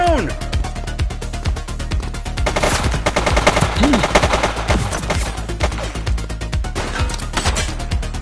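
Rapid automatic gunfire and repeated shots from The Precinct, a police video game, loud and dense across the whole stretch, with bursts overlapping a music-like tonal bed and voices calling out beneath.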